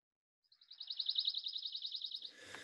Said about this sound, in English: A beautiful trill that you could get confused definitely with the chipping sparrow.